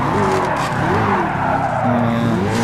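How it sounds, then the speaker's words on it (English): A car drifting in the Gran Turismo Sport racing game, played in VR, with loud sustained tire squeal over a continuous engine roar, wavering pitch throughout, no talk. "it's tricky to drift in granturismo, I think."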